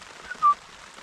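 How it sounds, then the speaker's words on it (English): Rain falling on a tent at a bike campsite: a soft, steady patter and hiss, with a brief faint whistling tone in the middle and no voices. "this rain's not going anywhere"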